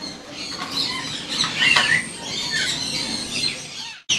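Lory parrots, including a breeding pair of kitting lories, squawk and screech in bursts at an exotic bird market shop, their harsh calls layered over steady shop background noise.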